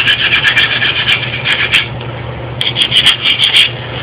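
A metal file rasps across a heat-treated W2 steel knife blade in quick, close strokes, several bursts of harsh scraping separated by brief pauses, with no talking.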